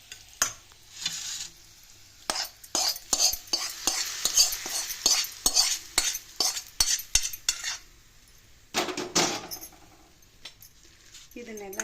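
Hot garlic oil, poured off the gas flame onto chillies for a North Karnataka green chilli karindi, sizzles and crackles while a spoon stirs and scrapes the metal bowl in quick repeated clinks. No voices, just nearby kitchen sounds.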